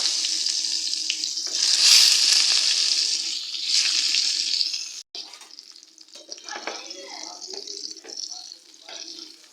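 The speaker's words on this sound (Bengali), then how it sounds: "তেলটা গরম হয়ে গেছে এবার একে একে আমি বেগুনগুলো এর মধ্যে দিয়ে দেবো ভাজার জন্য" Eggplant pieces hiss loudly as they drop into hot mustard oil, a bright sizzling burst that settles into a quieter, uneven crackle after a sudden break.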